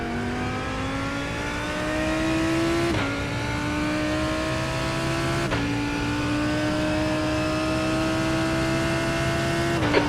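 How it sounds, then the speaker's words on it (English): Race car engine in iRacing IMSA droning steadily at high revs, with the pitch climbing and then dropping at two gear shifts, while a faster car closes in from behind. "there's a faster car approaching"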